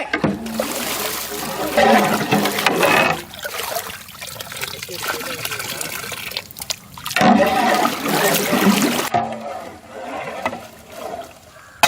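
Water pouring and splashing into a vegetable soup pot in bursts, with a voice talking over parts of it.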